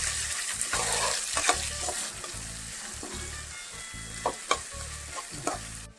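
Food frying and sizzling in a pan while being stirred, a steady hiss with repeated scraping strokes of the spoon against the metal, close up and continuous with no talk.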